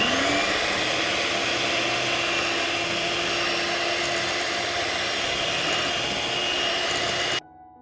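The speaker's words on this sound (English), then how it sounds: "And I will beat everything with a mixer." An electric hand mixer beats blueberries with lemon juice, giving a steady, close, droning whine that holds for about seven seconds before cutting off abruptly into silence.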